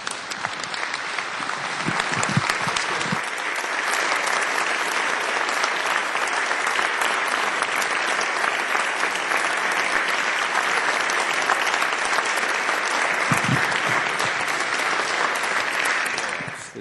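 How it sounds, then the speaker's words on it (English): A full chamber of state House members and guests applauds a grieving family, a long, even wash of clapping that holds steady at strong volume for over fifteen seconds before cutting off. "So let's give them a round of applause."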